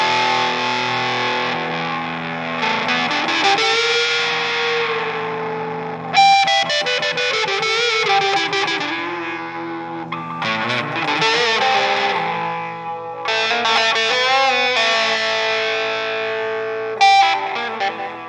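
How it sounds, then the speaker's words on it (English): An electric guitar driven by a tube screamer into distortion, feeding a TC Electronic Flashback delay pedal: loud, saturated sustained chords and bending lead notes with a few sharp strums and echoing tails, played alone without speech. "Here's the distortion."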